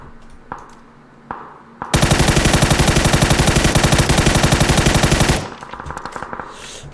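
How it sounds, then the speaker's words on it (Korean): After a game patch, the M4 rifle fires in a video game: a few single loud shots, then a long rapid automatic burst of evenly spaced reports, followed by quieter scattered shots. "자, 그리고 이게 패치 후 M4."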